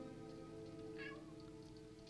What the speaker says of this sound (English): My cat says meow.